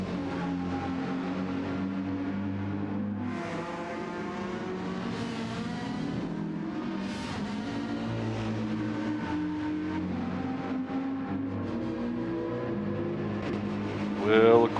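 Race car engine in Gran Turismo 7 endurance racing, a steady layered drone of several cars under continuous commentary, with a brief louder surge near the end.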